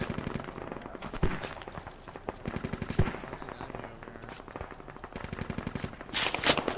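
Automatic gunfire rattles through a tactical military shooter, the Squad game at Kokan, in rapid bursts with sharp louder shots near one and three seconds, a dense volley at the end, and faint voices under the fire.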